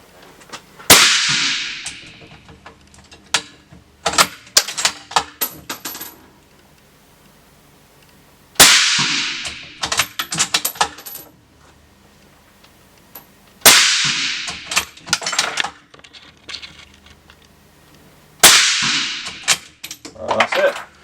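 Four sharp rifle shots from a gun fitted with a huge moderator in an underground shooting range, spaced evenly several seconds apart, each a loud crack followed by clanks and rattling of the action.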